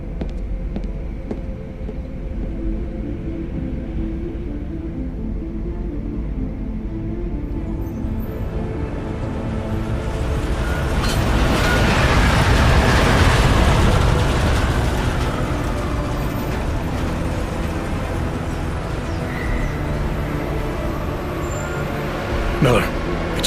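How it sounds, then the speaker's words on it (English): A train rolls through the cyberpunk city of Prague in the video game Deus Ex: Mankind Divided, a continuous low rumble that swells to a loud rushing peak midway before settling again. "Just getting off the train now."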